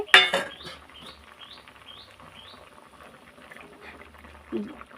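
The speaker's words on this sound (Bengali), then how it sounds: "দেখুন টকবক করে ফুটছে আমার।" Mango sour soup with sweet potato, pumpkin and vegetables bubbles in a pot, a soft steady simmer with faint gurgles after a sharp clatter at the start, moderately close.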